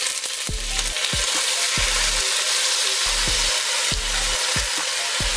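Spinach sizzling and frying in olive oil in a pan, a steady loud crackle with repeated stirring or scraping knocks every half second or so, no voices.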